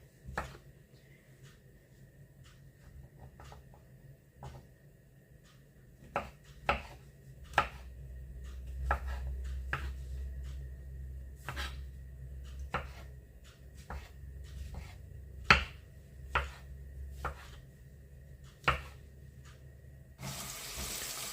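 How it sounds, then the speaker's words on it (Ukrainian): Sharp knife strikes finely chopping mushrooms on a board for risotto, irregular close taps spaced around a second apart, over a low background hum with some water-like noise. "Гриби нарізаємо дрібненько."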